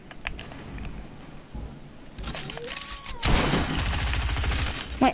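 Video game gunfire: a few scattered shots early, then a dense burst of rapid automatic fire that swells louder toward the end, with faint background game effects.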